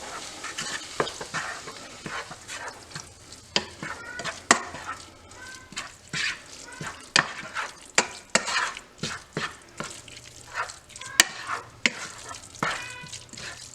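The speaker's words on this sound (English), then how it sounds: "So now you're going to stir that in." A spoon stirs salt into a thick sombrero spread dip made with low-sodium green olives, producing repeated close scrapes, clicks and soft clinks against the bowl in an uneven rhythm, with no speech.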